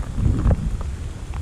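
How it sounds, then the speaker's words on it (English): Rain and wind on a bike ride near Widecombe-in-the-Moor, a loud, dense rushing wash of rain with gusty low rumbles, close and continuous with no voices. "The rain's come in."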